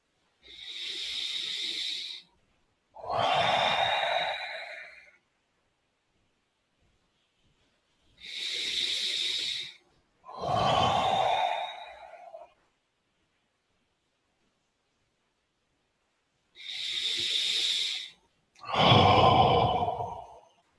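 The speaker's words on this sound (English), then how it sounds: "Everybody take a deep breath or two." Three slow rounds of deep breathing during a guided meditation, each a long hissing inhale followed by a fuller exhale, close and clear with silent gaps between.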